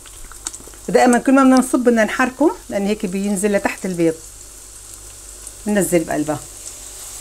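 Parsley omelette mixture fries in oil with a steady soft sizzle beneath a nearby voice talking in bursts, the hiss continuing through the pauses.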